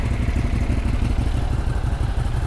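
A 2019 Ducati Hypermotard 939 engine runs steadily up close, a dense low rumble with a constant, even idle throughout and no voices.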